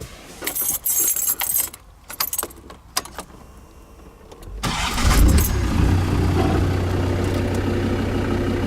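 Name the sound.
Land Rover engine starting in neutral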